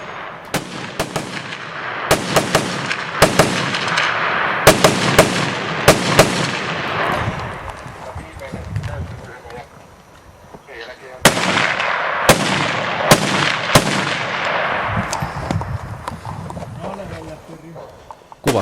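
Repeated sharp gunshots at a reservist practical shooting competition stage built in a range structure, firing in two quick volleys with a pause between, loud and close, crack-like reports with reverberant tails.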